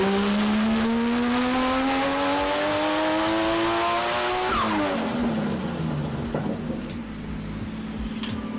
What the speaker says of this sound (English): I swear I can hear boost leak